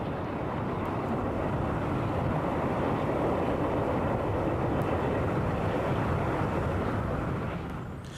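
Portuguese diesel locomotive re-engined with an Alco diesel engine, heard as a steady, broad rumbling roar with continuous rail noise, fairly loud and even throughout with no voices.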